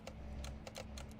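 Faint quick clacks of a hand striking computer keys, several strikes in an uneven burst over a steady low electrical hum, with no voices.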